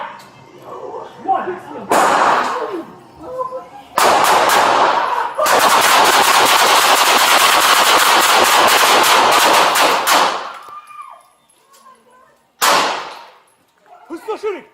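Gunfire in a bodycam police video game: single loud shots, then a long sustained burst of rapid automatic fire, followed by a few more shots, with shouting voices in between.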